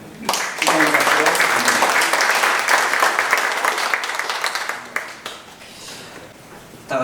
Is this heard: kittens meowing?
no